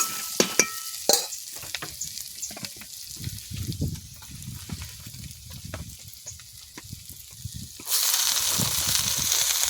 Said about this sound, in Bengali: শাকগুলোকে তেলের মধ্যে একটু কষিয়ে নেব।